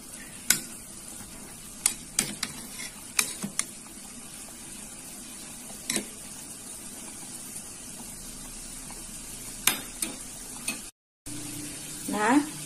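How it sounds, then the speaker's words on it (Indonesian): Star fruit soup bubbling in a pot on a home stove, a steady simmering hiss with occasional clinks and stirring knocks, close and moderately loud, no talking. "Nah, ini sudah mendidih dan sudah matang."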